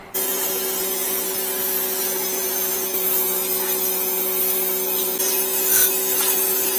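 A pressure-washer sand blaster scours wheel rims in a loud, steady hissing blast over a constant machine hum, running unbroken for several seconds with no voices.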